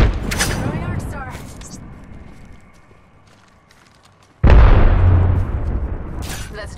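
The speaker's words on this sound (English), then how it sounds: "Throwing arc star." Arc star grenade in Apex Legends, a loud crackling burst at the start fading away over a few seconds, followed by a sudden heavy boom that rumbles and decays.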